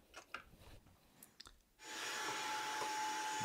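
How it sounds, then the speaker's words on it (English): A vacuum cleaner roars on steadily after a few scattered knocks and clatter, loud and close, running without a break while cleaning dust out of an electrical box. "So I'm taking the time to vacuum it out."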